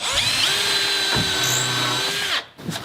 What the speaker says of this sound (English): I'm gonna pre-drill a hole here